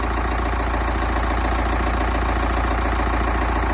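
A small tractor used for hay work, fitted with weights, idles at a steady, loud, close engine rumble with an even mechanical throb and no pauses.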